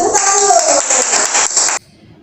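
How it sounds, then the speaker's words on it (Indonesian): A class of students clapping together in a burst of dense, near applause that carries steadily for close to two seconds, then stops abruptly. "pintar, semuanya tepuk tangan dulu"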